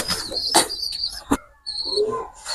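Pigeons in a small backyard loft room give soft coos and calls, with a brief burst of wing flapping partway through, close by and fairly quiet.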